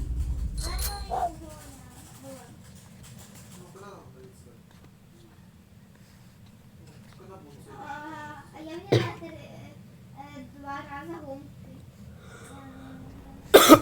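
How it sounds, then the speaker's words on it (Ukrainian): A child who is ill coughs a few times, short sharp bursts among children chatting during a Roblox Dandy's World game session, fairly close but mostly quiet between. "Та постарайся не кашляти"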